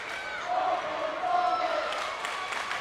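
A high school student section cheers at a volleyball game, a sustained crowd roar with raised voices swelling and easing over a couple of seconds, fairly close and steady.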